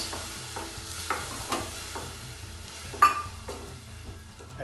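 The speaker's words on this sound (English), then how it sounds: "We'll put it and fry it for 2 minutes" Curd frying and being stirred in a pan for the Himachali dish redu, with a soft steady sizzle, repeated scraping strokes and a sharp clink of a utensil against the pan.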